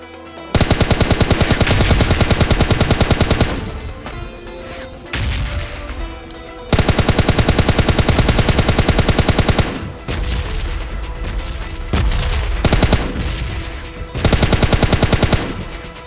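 Loud automatic gunfire from the PUBG Lite video game comes in long rapid bursts separated by short gaps, with rattling shots dominating the whole stretch.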